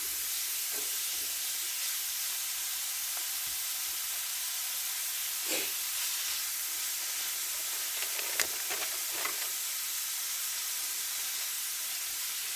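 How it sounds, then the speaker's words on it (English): Onions and celery saute in a pan with a steady bright sizzle throughout, broken by occasional soft clinks and stirring scrapes, no talking. "I'm just going to saute these up a bit until the onions are translucent"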